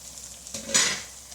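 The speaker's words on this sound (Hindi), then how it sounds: "4 से 5 मिनट हो गए भिंडी को बिल्कुल हल्की आग पे पकते हुए।" Okra for masala bhindi cooking in a pan over a very low flame: a soft, close sizzle with a brief stirring scrape that swells for a moment near the middle and then settles back.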